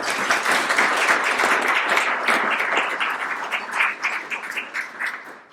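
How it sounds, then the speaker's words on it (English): Audience at a chamber thank-you luncheon applauding, a dense, steady wash of many hands clapping close by that gradually thins and tapers toward the end. "So please give a hand of applause for those leaderships."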